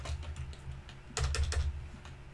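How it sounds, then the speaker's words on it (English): Keys clicking on a computer keyboard while a shortcut is pressed, with a light patter of taps and then a denser burst of several quick keystrokes in the second half, close and fairly quiet, with no talking. "I literally just have to hold the control button on my keyboard and press N"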